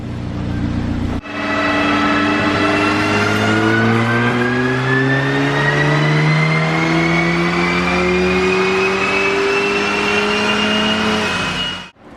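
A stage 2 tuned Audi S3 with an APR or IE tune is held at full throttle on an AWD dyno, its engine note climbing steadily for about ten seconds after a sharp start and cutting off abruptly, loud and close.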